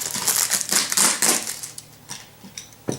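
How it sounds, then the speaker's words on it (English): A box cutter slicing through a plastic bottle, giving crinkly, crunching scrapes in irregular bursts, close by and loudest early on, then thinning to a few sharp cracks. "I'm trying to cut the bottle at the same time."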